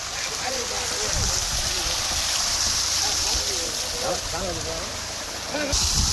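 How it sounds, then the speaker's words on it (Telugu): Water rushes out at full pressure from a borewell driven by a new Taro Texmo 12.5 HP eight-stage motor set 150 feet down, a loud continuous gushing hiss with people talking over it. "వాటర్ అయితే ఫుల్ ప్రెజర్ అయితే వస్తున్నాయి"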